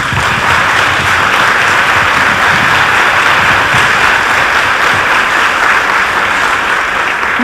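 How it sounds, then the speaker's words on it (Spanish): An audience at a film festival gala claps, a dense, steady wash of many hands applauding evenly throughout, loud and sustained with no talk over it. "a la que dedicamos también nuestro aplauso de gratitud."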